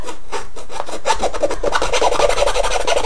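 Steady rhythmic rasping of sandpaper rubbed back and forth by hand, close and loud, with no voices.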